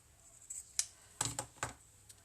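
Scissors snipping the edge of cardstock for a handmade autumn card, a few short crisp cuts spaced unevenly, close and fairly quiet with no talking.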